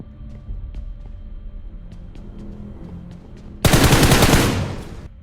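Sparse faint clicks and thuds in the video game BGMI, then a sudden loud burst of rapid automatic gunfire that roars close by before tapering off.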